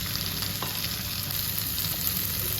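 Satay sauce goes into chicken that is frying in a Ninja Foodi 15-in-1 cooker, making a loud, close, continuous sizzle with stirring and no voices.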